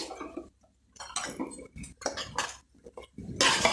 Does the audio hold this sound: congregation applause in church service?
no